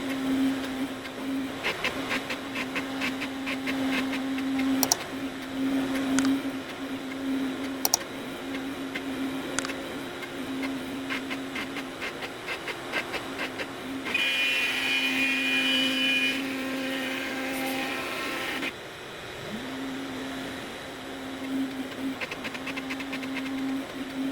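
Onefinity CNC machine moving through a dry run without cutting, a steady motor whine shifting pitch as the axes travel, with brief pauses and a sharper, louder passage midway, close and continuous.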